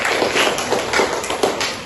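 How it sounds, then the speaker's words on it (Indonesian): Brief burst of hands clapping in a classroom, a quick bright patter of applause lasting under two seconds, close and fairly loud. "Tepuk tangan dulu."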